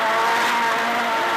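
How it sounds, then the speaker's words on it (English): A rally car in the Basil Reed livery racing through a corner on a gravel stage of the Toyota Gauteng Dealer Rally 2011, its engine roaring loud and close with a steady, strained tone. "Sean Wilkin in the Basil Reed car."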